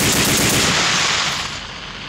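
Rapid machine-gun fire rings out on a military training range as troops shoot at pop-up targets, a dense continuous burst of loud, close shots that eases off slightly toward the end.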